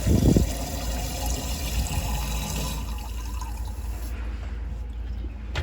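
Water drains and trickles out of a bio renew filter container after cleaning, a steady close liquid rush and gush that lasts throughout, loudest at the start and thinning slightly toward the end.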